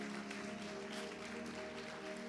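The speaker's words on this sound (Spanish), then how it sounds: "denle un aplauso al Señor" A church congregation claps continuously, a dense, even patter heard at moderate distance with a low hum running underneath.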